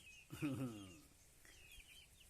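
A Phu Phan black chicken gives a short burst of clucks close by, then quieter calls trail off against a faint farmyard background.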